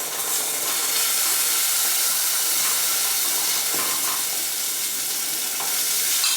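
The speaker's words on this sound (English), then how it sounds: "I'm going to add some vegetable stock." Vegetable stock poured into a hot pan of sizzling roasted tomato and red pepper puree, giving a steady loud hissing sizzle with bubbling that continues throughout without any talk.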